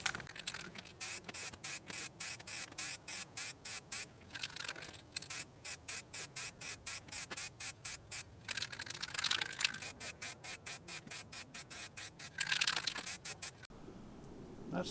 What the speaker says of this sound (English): try to spray it at this type of angle right off the side of the headstock